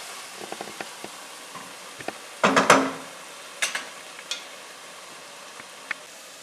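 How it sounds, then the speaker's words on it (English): Spiced tadka masala mixture for dal makhani being stirred in a pan, giving a short burst of scraping and sizzling followed by a few lighter clinks and taps, close and fairly quiet. "So I'm just going to give it a really good stir"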